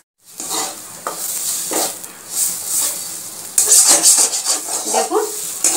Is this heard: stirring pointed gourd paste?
yes